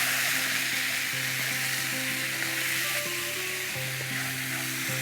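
Food for a quick Ramadan iftar dish sizzling loudly and continuously in a frying pan, a dense close hiss with a faint hum running underneath and nobody speaking.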